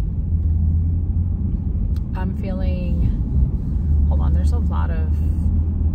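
Steady low engine rumble and road noise from inside a car on a two-lane road in traffic, continuous under a voice talking in the cabin.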